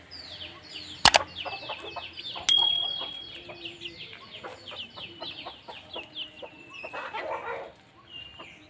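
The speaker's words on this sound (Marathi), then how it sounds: "मल्टी कलरचा एक कोंबडा आणि एक कोंबडी" A multicolored rooster and hen cluck and chatter nearby in a busy, continuous stream of short calls, with a sharp thump and a brief flap of wings early on.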